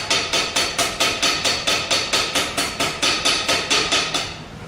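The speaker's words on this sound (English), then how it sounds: "You can beat them on anything. I just happen to have a vise right here." Hammer blows strike a metal leg clamped in a vise to straighten it, about twenty sharp, evenly spaced metallic hits in a steady rhythm, close and loud with no talking.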